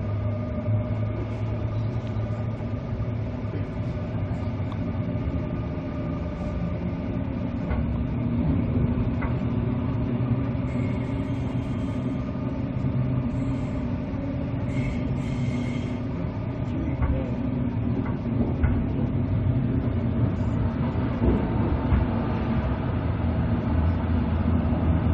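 A train rides a Brisbane railway line, its steady rumbling hum and rattle running continuously inside the carriage, loud and close, with faint higher squeals and clatter mixed in.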